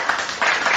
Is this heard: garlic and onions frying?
no